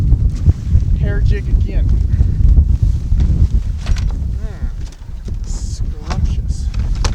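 Spring wind buffets a small fishing boat on Lake Erie near the islands, a steady low rumble of wind noise against the microphone running throughout, with someone talking over it.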